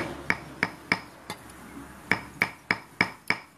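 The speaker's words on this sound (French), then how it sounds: "Allez, on hache, on va tout hacher." Food with shrimp is chopped for a Thai family meal, a blade striking a board in sharp, fairly evenly spaced knocks, about nine in quick succession with a short gap, close and clear.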